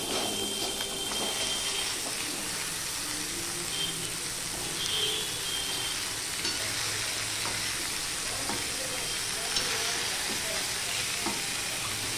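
Chopped, washed vegetables hit a hot pan of fish heads, raising a steady, dense sizzle and frying hiss that carries on unbroken with faint stirring scrapes throughout.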